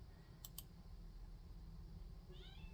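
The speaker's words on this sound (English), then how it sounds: "gonna stand there and meow outside my friggin' door" A single short cat meow near the end, fairly close, after a couple of quick clicks over a steady low hum.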